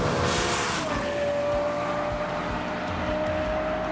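A Lexus LFA's Formula 1-inspired V10 roars loudly and steadily, its sharp high-revving whine climbing briefly and then holding a sustained, near-constant pitch toward 9,000 RPM.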